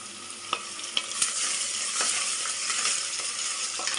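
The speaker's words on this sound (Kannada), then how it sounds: "ಇದೆಲ್ಲ ಚೆನ್ನಾಗಿ ಫ್ರೈ ಆಗಲಿ." Green chilies fry in a hot pan with a steady, close sizzle, broken by a few sharp scrapes and clinks of a spoon stirring, and no talking.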